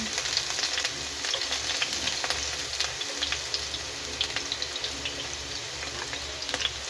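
Kangkong with tofu sautéing in a pan after the garlic has browned, a steady close sizzle and crackle of frying oil with faint stirring clicks, heard alone throughout.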